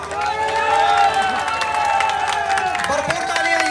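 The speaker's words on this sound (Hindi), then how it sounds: "भरपूर तालियां जी।" Audience at a Sialkot goat show prize announcement claps and cheers steadily, a dense crowd wash mixed with a voice over a loudspeaker.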